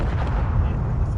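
A missile volley strikes and explodes in the video game Space Engineers, a heavy, low rumbling boom that stays loud and sustained across the whole brief moment.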